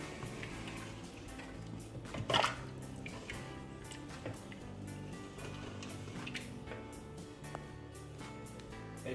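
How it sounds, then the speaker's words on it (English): Wet, irregular clicks and soft splashes of a spoon stirring lamb stew (nihari) with fresh water in a pot, with a steady low background hum. "Give it a good old stir."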